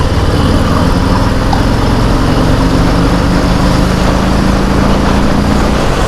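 Harley-Davidson motorcycle with a 107 engine, a Softail Slim or Street Bob, accelerating hard through its gears on the road, a loud, steady, dense engine roar mixed with heavy wind rush throughout.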